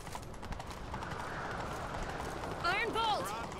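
A horse galloping in The Witcher 3, rapid hoofbeats thudding under voices calling out during a chase, with a brief sweeping chirp-like sound near the end.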